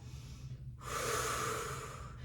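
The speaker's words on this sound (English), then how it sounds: "2 more deep breaths" Deep, slow breathing during a wall Pilates exercise, a long airy inhale or exhale heard close and alone after a brief quiet gap.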